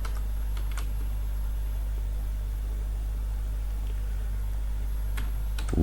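Typing on a computer keyboard while writing web design code: a few quiet, scattered key clicks over a steady low hum, close but faint, with no voices.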